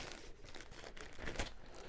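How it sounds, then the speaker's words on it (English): A wireless microphone receiver is pulled from a plastic bag, and the thin plastic crinkles and rustles steadily up close at low volume, with a slightly louder crunch near the end. "Let's go ahead and pull that out of the plastic bag."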